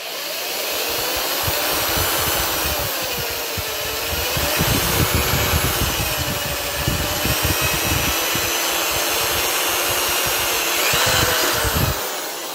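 Power drill with an auger bit bores through while a homemade TV antenna is being mounted, a loud, steady whir that surges and eases under load for several seconds.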